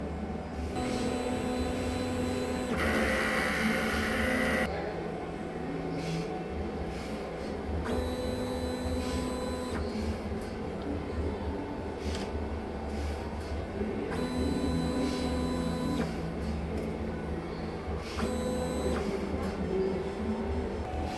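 A DTF printer runs a head-clean cycle, a steady mechanical hum with whirring motor passes that swell and fade every few seconds, close and continuous with no talk.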